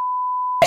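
A single steady censor beep, flat and high-pitched, cut off abruptly as a voice begins.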